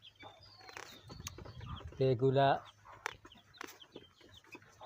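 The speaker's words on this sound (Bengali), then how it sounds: "এগুলো হলো সোনালী মুরগি।" Twenty-day-old Sonali chickens in a poultry shed of about a hundred birds cluck and chirp close by, with one loud squawk midway, while a person speaks briefly.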